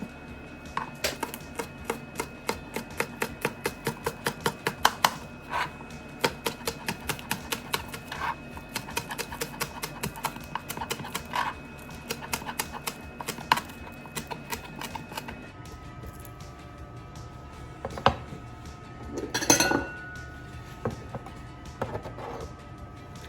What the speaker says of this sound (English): I'm going to go ahead and cut up this green onion